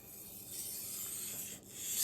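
Kitchen knife blade drawn in steady full strokes across a wet sharpening waterstone, a continuous gritty rubbing close up with a brief dip near the end, no voices.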